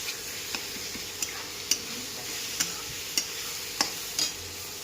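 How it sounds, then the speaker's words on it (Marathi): Green chilies fry in a pan with a steady, faint sizzle, broken by sharp stirring clicks or taps roughly every half second, close by with no talking. "हिरवी मिरची चांगली लालसर होऊ द्यायची."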